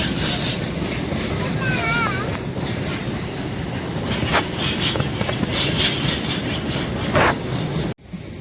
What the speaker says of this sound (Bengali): ফারাক্কা ব্রিজের ওপর জ্যামে দাঁড়িয়ে আছি, ট্রেন না হলো মালগাড়ি যাচ্ছে।